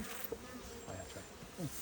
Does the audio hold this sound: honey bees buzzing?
yes